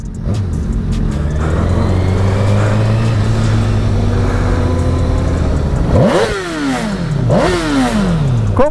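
A Honda CBR1000 Repsol sportbike engine revs loudly and close, a steady idle drone rising into two sharp throttle blips that climb and fall back near the end.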